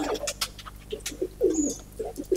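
A racing pigeon coos close by, a few soft throaty coos in quick succession, with faint chirps and background noise and no speech.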